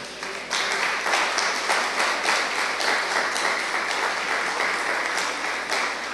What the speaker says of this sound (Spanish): Me voy a valer de ese aplauso